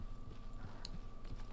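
Horse hooves clip-clopping steadily in the video game Red Dead Online, a soft repeated walking rhythm under a low constant hum, fairly faint and without talk.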